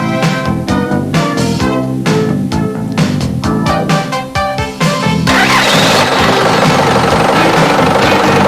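A Toyota forklift engine turns over unevenly for a few seconds, then settles into a loud, steady idle that runs on without pause.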